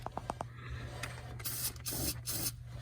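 Protective spray hissing onto car battery terminals in the engine compartment of a 2012 Jeep Liberty KK, heard as several short close bursts with a steady low hum underneath.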